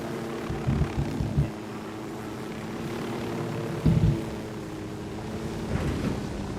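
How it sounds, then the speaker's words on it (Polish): A helicopter hovering near an enemy base in the video game Ghost Recon Wildlands gives a steady, moderately faint rotor and engine hum with tonal bands, broken by a few brief louder thumps. "Helikopter odleci do tyłu? Nie, no stoi."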